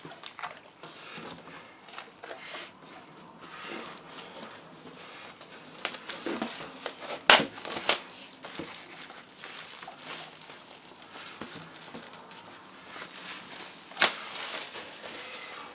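Plastic shrink-wrap being peeled off a set of fantasy board-game cards, heard close as quiet crinkling and rustling with a few sharper crackles and tearing bursts, without talk.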